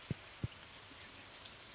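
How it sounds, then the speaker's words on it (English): Soft, steady rainfall in Stardew Valley fills the background, with two short dull thumps near the start. "Because it's raining."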